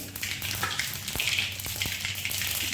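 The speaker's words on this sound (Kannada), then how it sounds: "ಈಗ ಎಣ್ಣೆ ಕಾದತ್ರಿ ಇದ್ರಾಗ ಸಾಸಿವೆ" Mustard seeds and cumin crackle in hot oil for a fenugreek junka dish, a continuous close sizzle with sharp little pops scattered through it and no talking.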